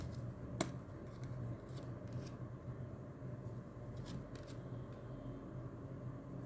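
Tarot cards being shuffled and drawn, soft papery rustling and flicks with a few sharp snaps, faint and close over a low background rumble, without speech.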